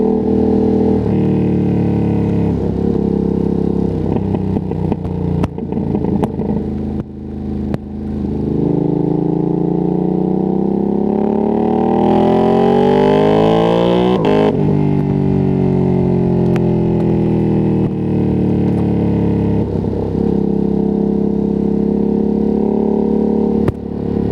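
A Ducati Streetfighter V2S ridden on the road, its twin-cylinder engine loud and close, rising and falling through gear changes with long revving climbs and sharp shifts, without voices.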